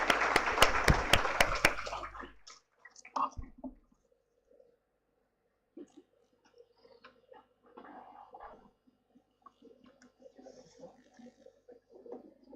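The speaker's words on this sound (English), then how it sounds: "Please give her a big round of applause" A short burst of clapping from a conference audience for a speaker, brisk and sharp, fades within about two seconds and leaves quiet room rustle and faint distant murmurs.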